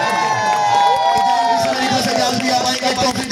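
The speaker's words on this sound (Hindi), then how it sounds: "तालियां बजा दे" A crowd at a cricket tournament prize-giving ceremony claps and cheers continuously, voices and shouts mixed in, with an announcer speaking over the noise.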